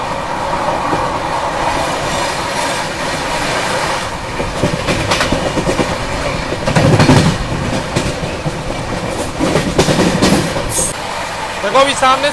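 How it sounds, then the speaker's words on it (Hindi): Rajdhani Express train running through Dalol railway station without stopping, with rhythmic clickety-clack of wheels on rails, rumbling passes and a brief squeal near the end, heard close with some voices in the background. "ट्रेन स्किप कर रही है डालोल का रेलवे स्टेशन।"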